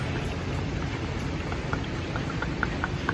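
Sudden heavy rain pours down in a steady, even hiss, constant and moderately loud with no voices.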